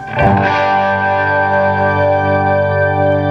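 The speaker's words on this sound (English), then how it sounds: "Shimmer pedal, the Blue Sky Strymon." A single electric guitar chord through a Strymon Blue Sky shimmer reverb pedal is struck and rings out, swelling into a lush, shimmering wash of sustained reverb with bright high octave overtones.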